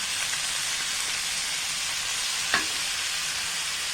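Paneer cubes fry with spices in a pan, an even, continuous sizzle with one brief scrape of a spoon partway through.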